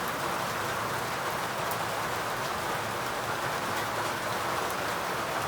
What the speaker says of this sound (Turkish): Şu an çok güzel yağmur yağıyor.